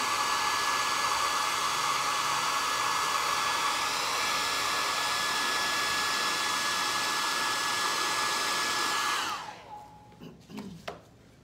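Hair dryer blowing steadily close by while drying a freshly painted plaster decorative cup, a loud continuous whir that cuts off near the end, followed by a few faint handling knocks.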